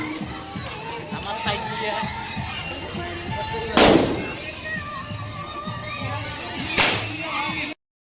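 Firecrackers burst during Diwali. Two loud, sharp bangs land a few seconds apart over a busy background of voices and crowd noise.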